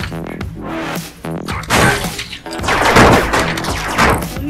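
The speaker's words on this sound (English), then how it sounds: "Cool, start off shooting some people." Laser tag guns firing in the Rec Room video game, heard as loud rapid bursts of synthetic zapping shots with crashing impacts, dense and continuous through most of the clip.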